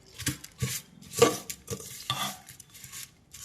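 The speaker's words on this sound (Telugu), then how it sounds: "అన్నీ గెరిటితో ఇలా కలిపేసుకుని మొత్తం" A ladle stirring a potato curry mixture in a pot, several scraping, sizzling strokes in quick succession, close and clear with no talk.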